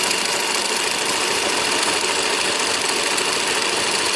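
A sewing machine stitching down the side of a zipper pouch, a loud, steady, rapid mechanical whir that runs unbroken and close throughout, with no voices.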